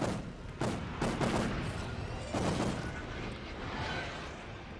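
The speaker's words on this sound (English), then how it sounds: "Gonna open fire." Warship guns fire in World of Warships during a naval battle: heavy booming salvos land in several bursts with rumbling, drawn-out tails that fade into a sustained low roar.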